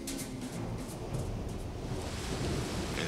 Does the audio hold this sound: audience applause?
no